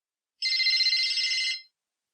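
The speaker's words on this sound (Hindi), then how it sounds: "तुम्हारा फोन बज रहा है" A mobile phone rings indoors with a single bright, trilling electronic tone lasting about a second, clear and close, with no talk over it.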